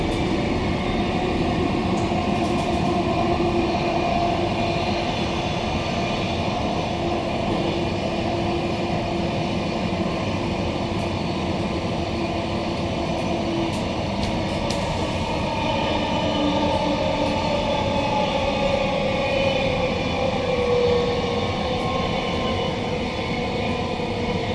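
Queensland Rail New Generation Rollingstock NGR 708 electric train heard from inside while running from Fortitude Valley to Central in Brisbane, a steady, loud rumble of wheels and motors with a few faint clicks, continuous throughout and no talk.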